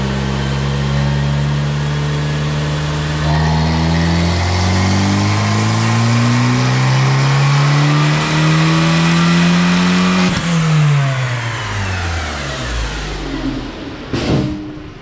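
A Fiat 500 Abarth with a 1.4 turbo MultiAir engine, running a stock tune, pulls hard on a dyno, its loud close engine note climbing steadily in pitch for about ten seconds before easing off, with a sharp release near the end.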